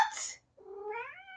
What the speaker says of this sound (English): This cat. She's like, it's 8 o'clock and I want to go eat grass.